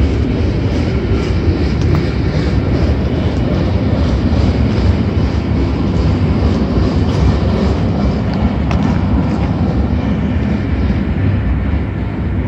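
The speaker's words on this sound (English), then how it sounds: "you can hear the sound of a freight train beside me" Freight train rolling past at night on Mullins Street in Montreal, a loud, continuous rumble with steady wheel clatter close by, no talk over it.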